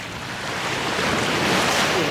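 Sea waves wash onto a beach in Zambales on a calm early morning, making a steady, loud rushing surge with wind buffeting the microphone throughout.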